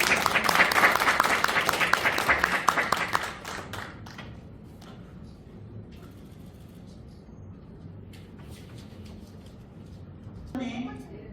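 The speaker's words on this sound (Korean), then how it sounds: "큰 박수 부탁드립니다." Audience applause fills a seminar hall at a foundation's founding ceremony, with dense loud clapping for about three seconds before it fades out. Quiet room noise follows, and a voice briefly speaks near the end.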